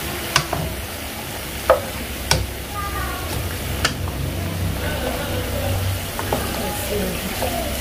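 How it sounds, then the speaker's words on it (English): A spoon stirs macaroni and meat stir fry in a pot, giving steady scraping with a soft simmer beneath. Several sharp knocks of the utensil against the pot break in at intervals. "I'm just going to put in the macaroni meat and mix"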